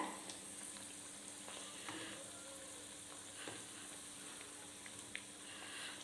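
Sweet potato vada deep-frying in hot oil, a steady close sizzle with scattered small pops and crackles throughout, no voices.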